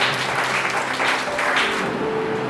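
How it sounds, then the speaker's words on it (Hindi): A church congregation at a Nepali-Hindi service gives sustained, loud applause to welcome a preacher, a dense wash of clapping filling the space from start to finish. "आउनुहोस् हामी ठुलो अनि लामो तालीले उहाँलाई यस समय स्वागत गर्ने।"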